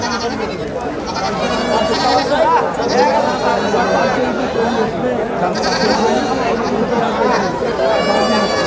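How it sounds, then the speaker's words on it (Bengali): Black Bengal goats, a mother and kids, bleat repeatedly at a crowded rural goat market, their cries rising over a constant loud bed of people chattering and talking nearby. "আমাদের সামনে যে 3টি বাচ্চা ভ্রূণ ছাগল রয়েছে, মা ছাগল 1টি, বাচ্চা রয়েছে 2টি।"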